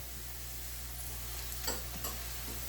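Whole spices — cinnamon, cumin, cloves and black peppercorns — frying in hot oil, a steady soft sizzle with a couple of faint clicks near the end.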